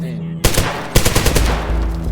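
Rapid automatic gunfire erupts in the tactical shooter game Zero Hour, loud dense bursts of machine-gun shots following a brief quieter moment, with heavy low rumble underneath.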